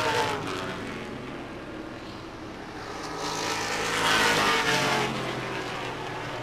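Vintage race cars roar down the front straightaway of a racing circuit, a loud engine drone building and swelling as the cars pass close by, with no talk.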